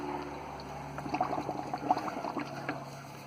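Old gasoline is poured for a Polaris Sportsman ATV fuel sender fix, producing a faint, gentle trickle and gurgle of liquid over a few seconds, quiet and close, with no talking.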